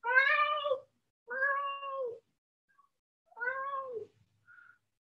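Young child in a pre-kindergarten gymnastics class imitating a cat: three clear drawn-out meows with pauses between, then a short faint squeak, close and alone.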